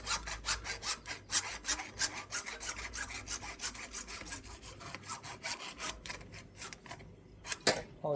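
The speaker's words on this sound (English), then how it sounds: "Literally cutting the pipe here." Pipe being cut by hand for a koi pond heater installation, rapid rhythmic rasping strokes close to the microphone, irregular in pace with a brief pause near the end.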